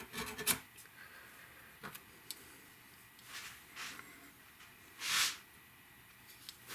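Wood is trimmed from the headstock of an Epiphone acoustic guitar, giving faint, scattered rasping scrapes with long quiet gaps and one louder, fuller stroke toward the end.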